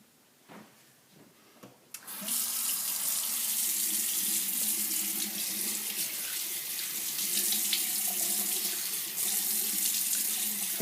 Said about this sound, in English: he's just going to wet his face with warm water